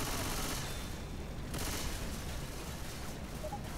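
Constant dense gunfire and explosion noise from the video game Left 4 Dead 2 fills the whole span, loud and steady with no clear breaks.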